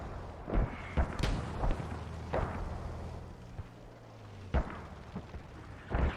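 Kornet missile launches and gunfire in a military video game: a string of sharp booms and thuds at irregular intervals, some near and heavy, others more distant, over a low rumbling battlefield background.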